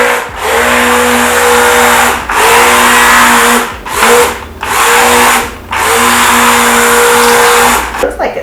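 A blender mixing cold process soap batter, loud whirring motor bursts of a second or more each, stopping and restarting several times with short pauses between, close and dominant.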